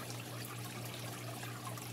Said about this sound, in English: you got to pour the water in really slowly